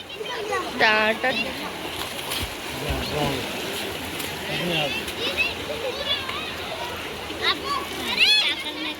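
An object dropped into a flowing river for ritual immersion makes a splash amid a constant rush of water, with children and adults talking loudly over it outdoors.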